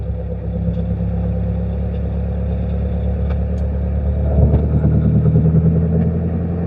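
An EFI engine pulls in 4th gear out of a roundabout from about 1,000 RPM, a steady close drone that swells and grows louder partway through as it accelerates smoothly without hesitation.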